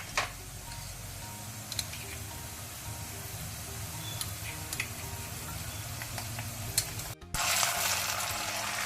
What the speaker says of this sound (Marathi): पियाव भाजून आयलो म्हणटाना ताका आमी जिंजर गार्लिक पेस्ट घालया.